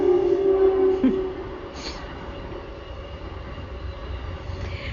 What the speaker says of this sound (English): The train's about to come.